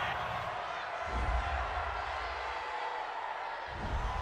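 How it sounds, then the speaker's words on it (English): A stadium crowd at an NFL game between the Indianapolis Colts and Tennessee Titans reacts angrily to a penalty call, a broad sustained roar of voices with swelling boos from a distance. "this crowd does not like that call"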